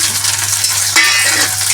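Bitter gourd sliced and salted, hitting hot oil with mustard seeds: a loud, continuous sizzle and crackle throughout, briefly intensifying about halfway, with no voices.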